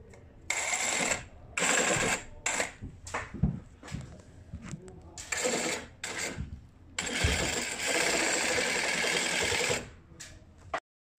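A reciprocating saw cutting through drywall beside radiator pipe: harsh buzzing bursts that start and stop repeatedly, loud and close, ending in one longer continuous cut.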